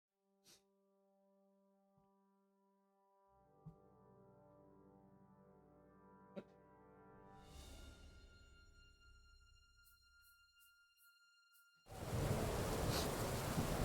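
A loud rush of heavy rain and storm noise bursts in near the end in Kingdom Come Deliverance II, after a quieter stretch of low rumbling thunder-like swells and faint tones.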